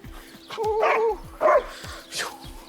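A good-sized working dog being assessed gives several short barks and yips, close and moderately loud, over a steady low background hum and intermittent clicks.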